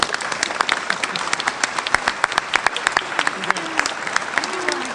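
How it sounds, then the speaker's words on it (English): A room full of people claps steadily, a dense patter of hands at moderate distance, with a few voices murmuring underneath. "a round of applause from all our members and guests."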